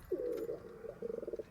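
Pigeons coo softly in a domestic loft, one drawn-out throaty coo followed by a quicker pulsing run of notes, faint and close with no talk.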